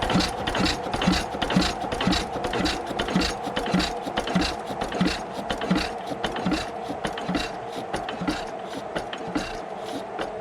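A saw blade on a wood processor cuts through wood in a continuous gritty rasp, with rhythmic ratcheting and grinding over a steady engine hum, close and fairly loud throughout.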